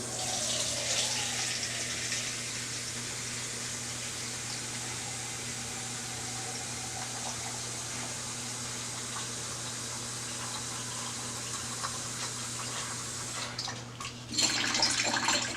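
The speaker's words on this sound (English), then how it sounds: "So we're going to add 1 pound of water." Water pours steadily into a mixing cup for a homemade bee pollen patty, a continuous trickling stream at moderate level that shifts near the end.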